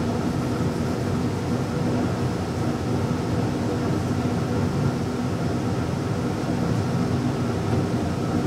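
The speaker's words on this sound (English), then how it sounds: "Furnace is kicking on, apologize for the noise." A household furnace kicks on and runs, giving a steady, fairly loud broadband roar and rumble that holds without a break from start to finish.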